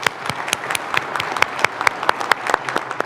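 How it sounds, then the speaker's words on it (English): Enthusiastic audience applause for award winners at a city awards gathering, a dense, steady round of close clapping with sharp individual claps standing out throughout, no voices over it. "Let's congratulate our winners with a round of applause."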